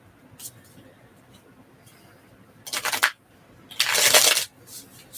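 Gold-edged tarot cards being shuffled by hand, heard as two distinct riffling bursts, the second longer and louder, over a faint quiet room with a few soft taps between.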